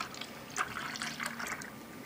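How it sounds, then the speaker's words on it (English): Extra bold Starbucks coffee poured from high up into a cup, a faint, steady liquid trickle and splash with light gurgles, heard alone without talk. "the coffee I use is extra bold, so I just take it and just pour it in. I like to go high up sometimes,"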